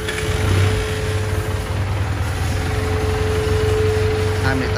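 A Benelli 302R motorcycle engine runs at a steady idle, close and loud, with an even low throb and a constant whine layered over it for the whole stretch.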